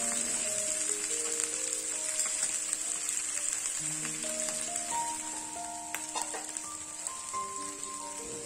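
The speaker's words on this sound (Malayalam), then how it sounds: "ഞാൻ എന്താ വേഗം തന്നെ മീൻ പൊരിക്കാൻ വേണ്ടി ഇട്ടിട്ടുണ്ട്" Fish fries in a pan with a steady crackling sizzle like light rain, heard up close and unbroken, with faint tonal background music running under it.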